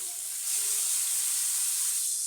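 Tadka of cumin in hot oil in a pan for a besan curry, sizzling as a steady bright hiss that swells slightly and holds for a couple of seconds, close and alone.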